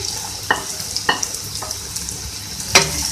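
Green chillies frying in a hot pan, a soft continuous sizzle broken by a few sharp scraping stirs of a spoon, close and clear with no talk.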